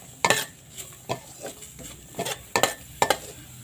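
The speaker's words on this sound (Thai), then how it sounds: "กระเทียมหอมแดงตะไคร้ครับ แล้วก็ขาแก่ครับ คั่วไปเลยครับ" Garlic, shallots and lemongrass dry-roasted in a pan for northern Thai larb chili paste, heard as a few sharp scraping stirs and clinks of a utensil against the pan over a faint background hiss.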